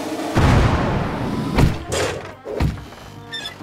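A cannon fires several times in a staged circus-style act, each shot a heavy, booming thud with a sharp onset, the first long and loud, then two more blasts that follow about a second apart.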